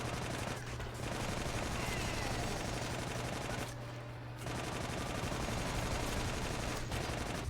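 Sustained automatic gunfire in the video game Army of Two: The 40th Day: dense, rapid bursts of shots rattle on almost continuously, broken by two short pauses.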